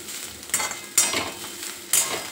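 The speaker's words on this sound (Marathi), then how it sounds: "म्हणून फुल गॅसवरच असं छान परतून घ्यायचं" Momo vegetable filling sautéed in a pan over full gas, a soft sizzle broken by three sharp clinks and scrapes of a metal spatula against the pan, close by and without speech.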